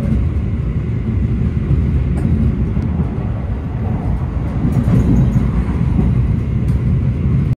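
An Argo Bromo Anggrek executive train runs at around 117 km/h past Cirebon Prujakan station, a loud continuous rumble and rattle of wheels and carriage, steady throughout with no voices.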